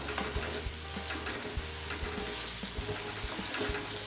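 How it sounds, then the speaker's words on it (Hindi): Softened taro (arbi) pieces roast on high flame, a continuous close sizzle and crackle with occasional spoon taps and scrapes while being stirred, no talking. "अच्छे से इसको तेज़ आंच पे भूनेंगे 1 से 2 मिनट"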